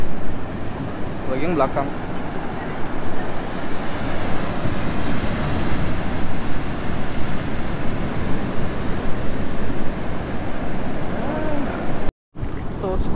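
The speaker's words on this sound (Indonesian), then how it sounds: "Oh, ini ombaknya gede nih." Big surf rolls in continuously on Pangasan beach in Pacitan, East Java, a loud broadband roar with wind buffeting the microphone, while people talk briefly over it.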